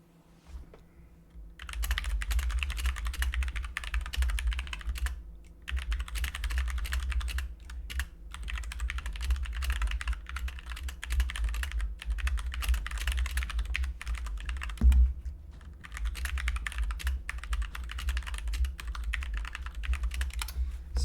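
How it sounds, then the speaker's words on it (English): Rapid typing on a computer keyboard clatters nearby in bursts, steady streams of keystrokes broken by brief pauses, over a low constant hum, with one louder knock partway through. "Sorry guys, I was typing."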